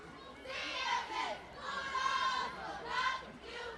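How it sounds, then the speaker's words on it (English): Conyers cheerleaders at a middle school football game chanting in rhythmic group bursts of high voices, loud and close, rising and falling with a crowd murmuring beneath. "Conyers cheerleaders going through their chant progressions, getting the crowd pumped up"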